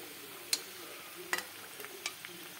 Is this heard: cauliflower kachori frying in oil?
yes